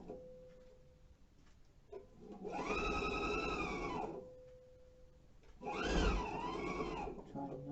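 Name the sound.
sewing machine sewing around a front zipper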